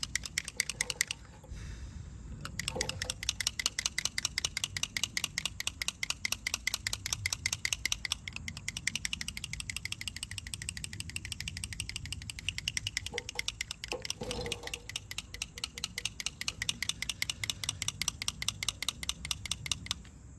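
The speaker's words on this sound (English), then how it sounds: "So what I'm doing in between coats is I'm shaking the paint." Touch-up paint can for curb-rashed Tesla wheel rims being shaken hard between coats, a fast steady rattle of the mixing ball clicking inside, close and continuous with only a couple of brief pauses.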